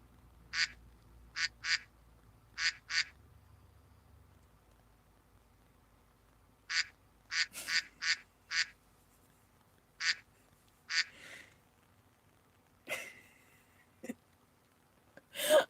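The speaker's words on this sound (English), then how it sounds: "Give me a quack." Duck quacks in repeated pairs and short bursts, loud and close, spread across the stretch with quiet gaps between them and a few other brief sharp sounds near the end.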